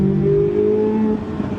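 Chevrolet Corvette C8 Z06 engine revving, a brief loud sustained note that holds steady and then drops slightly, heard close up with no talking.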